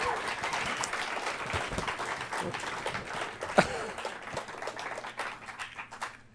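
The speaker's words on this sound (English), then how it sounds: "Give yourselves a round of applause for coming out." Loud, dense audience applause at a stand-up comedy show, a crowd clapping and cheering together with voices mixed in, tapering slightly toward the end.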